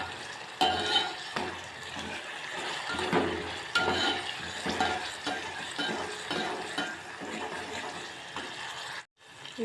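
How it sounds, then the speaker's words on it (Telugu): Onions with ginger-garlic paste frying for a prawn curry, an uneven sizzle under irregular spoon strokes against the pan, moderately loud and close, cutting off abruptly near the end, no speech. "అల్లం వెల్లుల్లి పేస్ట్ వేసి వేయించుకోవాలి."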